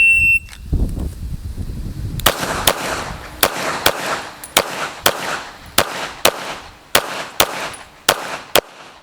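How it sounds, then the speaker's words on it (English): Rapid string of about fourteen sharp pistol shots from a Tanfoglio Stock 2 at a shooting range, evenly spaced bangs with quick splits, loud and close, following a brief rustle at the start. "now we're gonna just let the dot settle and shoot 40 plus splits here"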